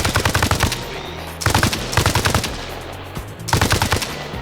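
A machine gun fitted with a 4x scope fires in the Arma Reforger video game, loud close bursts of rapid shots in three or four separated volleys with short pauses between them.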